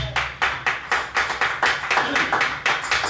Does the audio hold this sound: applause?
yes